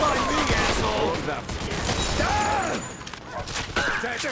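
Rapid gunfire from a shootout in the crime game Mafia II rattles in dense bursts at close range, mixed with shouting voices and scattered impacts.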